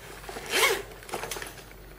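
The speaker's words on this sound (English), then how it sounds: "It has genuine YKK zippers." A YKK zipper on the carry case of an inflatable air seat is pulled open in one quick, close rasp, followed by a few shorter tugs, with no talking.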